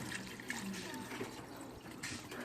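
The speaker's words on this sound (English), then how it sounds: "So because I have rice, I'm going to add a little water." A small amount of water is poured into a container of hamburger soup with rice, a soft continuous trickle and splash heard at low level throughout.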